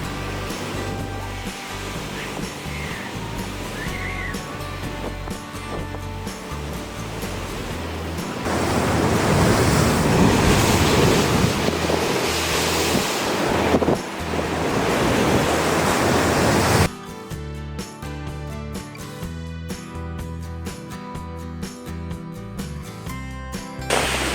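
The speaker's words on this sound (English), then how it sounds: "The waves are pretty big in the open sea." Steady roaring surf with heavy waves breaking on the open sea off Malta in December, swelling louder midway, with wind buffeting the microphone throughout.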